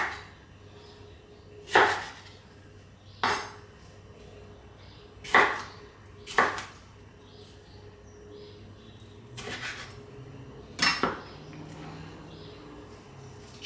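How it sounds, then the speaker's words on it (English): A knife cuts three tomatoes into small pieces on a board, six or seven distinct crisp chops spaced a second or two apart, fairly close, over quiet room background. "Okay, next I got 3 tomatoes over here. Just cut these up as well."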